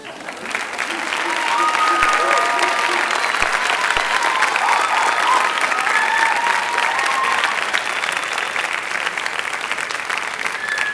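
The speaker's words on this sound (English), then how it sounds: "Applause." Audience applause after a reading at a literary event, swelling in within the first second into a full, even clapping that holds steady and loud for the rest of the clip, with a few faint voices underneath.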